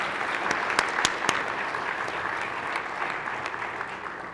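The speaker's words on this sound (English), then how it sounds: "Give them a round of applause." Applause fills the state senate chamber at the Hawaii State Capitol, a steady, moderately loud wash of many hands with a few sharper claps standing out near the start, fading slightly toward the end.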